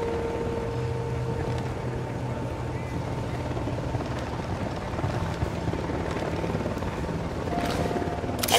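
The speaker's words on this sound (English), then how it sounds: "Chopper incoming." Helicopter in Ghost Recon Wildlands: a steady low rotor drone holds throughout at moderate distance under ambient game sound, while someone speaks briefly.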